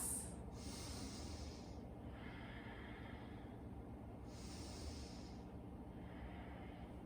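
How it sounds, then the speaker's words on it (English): Slow, deep yoga breaths drawn in and pushed out through the nose, two full cycles of long airy inhales and exhales, close and fairly soft over a steady low room hum, with no talking. "Final 2 breaths."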